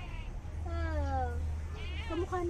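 A voice imitates a cat, giving several drawn-out meows in a row. The meows are close and clear, over low background rumble at a park in Tagaytay.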